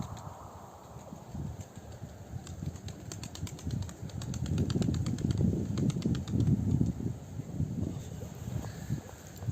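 Male grey tumbler pigeons training in flight over Ankara, a soft rustle of flapping wings and airy whooshes that swell in the middle, with faint wind noise and a thin high tone in the background.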